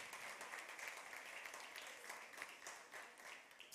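Faint, distant audience applause at an award announcement ceremony, a steady wash of many hands clapping with no voices over it.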